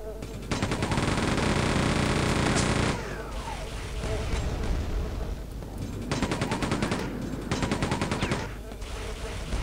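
Enemy rocket fire in Quake 2's prison level thunders in long rapid bursts of blasts and explosions, loud and dense, broken by short lulls with lower rumbling.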